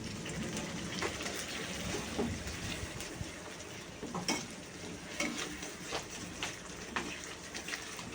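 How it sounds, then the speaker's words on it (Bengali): Katla fish dopiaza masala being stirred in a pan, a soft continuous sizzle broken by repeated scraping stirs, fairly quiet and close. "আমার ছেলে একটু নাড়াচ্ছেই ফাঁকে"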